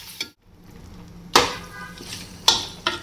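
Ground masala paste is stir-fried in oil, with quiet frying noise under sharp intermittent scrapes and clanks of a spatula against the pan, spaced about a second apart.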